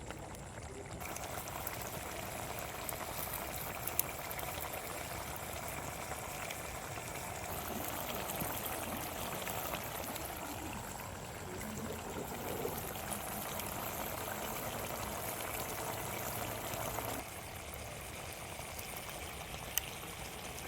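Steady bubbling and simmering of water cooking down in a pan of chicken curry, a continuous soft hiss with faint gurgles throughout, no voices.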